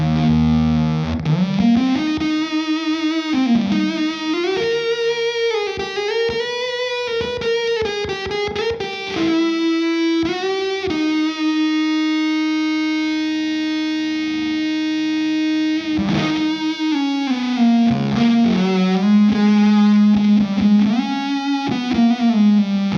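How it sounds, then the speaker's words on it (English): Electric guitar through a THOR fuzz pedal voiced like a Mark II Tone Bender, thick saturated distortion on sliding lead lines and sustained notes, loud and up close with no talking. "At its heart, it's actually kind of a Mark II tone bender."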